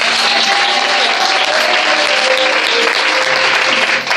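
A church congregation at a prophetic gathering in Côte d'Ivoire bursts into dense, sustained applause, loud and continuous throughout, with a faint tonal voice or cry drifting underneath and a brief dip near the end.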